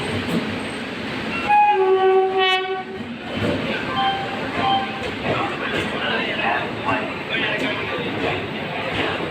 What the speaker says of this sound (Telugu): అలాగే మన మాటల్లోనే వచ్చేస్తుంది మన బండి చూడండి.